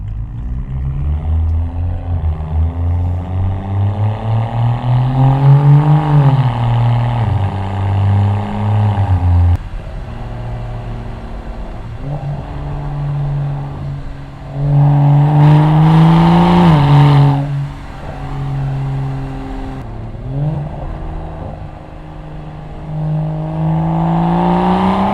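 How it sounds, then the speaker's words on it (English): A BMW E92 335i with a muffler delete revs repeatedly, its raw exhaust rising and falling in loud sweeps with brief lulls between pulls, heard up close and alone. "This made it so I could get a better audio clip of the exhaust and the pure sound"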